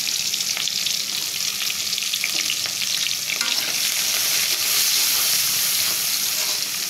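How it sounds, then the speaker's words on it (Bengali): Chopped onions sizzle in hot oil tempered with cumin seeds in a wok, a steady, close, bright crackle that runs unbroken for the whole stretch with no one talking. "তেলে আমি পেঁয়াজটা একটু ভেজে নেব।"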